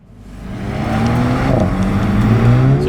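A Mercedes-AMG CLA 35 engine on the road pulls hard from low revs, the note climbing steadily and growing loud and close through the run, with a rising layered exhaust tone.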